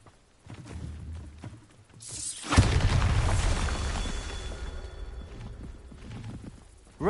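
Bombarda blasting spell in Hogwarts Legacy, a sudden heavy explosion erupting about two and a half seconds in after quieter clattering game sounds, followed by a long rumbling, crackling decay.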